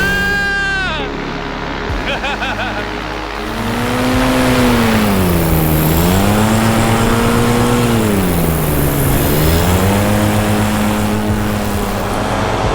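A paramotor with a Vittorazi EFI engine flies low past a quarry, its droning buzz rising and falling in pitch as it swoops by, loud and close; a voice calls out briefly at the start.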